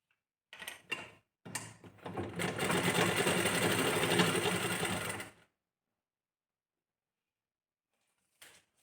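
Sewing machine stitching tucks into a blouse, a short burst, then a steady run of about four seconds, fairly close and alone, followed by silence and a brief final whir.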